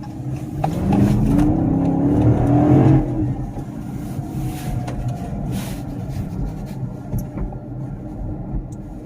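A 2018 Dodge Charger Pursuit AWD V8 engine revs up loudly and accelerates, then settles into a steady drone of driving with road noise, no voices.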